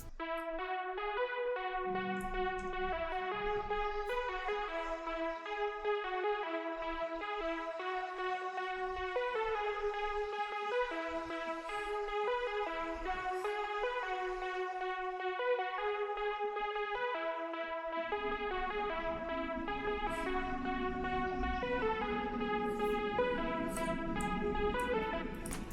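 An electronic beat pattern plays through continuously with a steady synth melody in repeating stepped notes, a processed effects-laden texture and a heavier bass layer entering in the last few seconds, loud and without talk.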